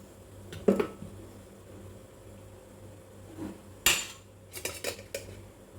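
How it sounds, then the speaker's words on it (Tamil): Metal idli plate set into a steamer pot for millet idli, a few sharp close clanks and rattles of metal on metal spaced out over a faint background hum, no voices. "இப்போ இந்த தட்டு வைக்கிறப்ப இந்த ஹோல் இந்த இது இப்படி வைக்கணும்"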